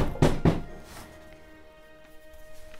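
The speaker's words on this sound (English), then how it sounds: "First thing I want to do is bang the bottom of the table." Two heavy thuds in quick succession as a mosaic board is banged against a table, followed by quiet room tone with a faint hum.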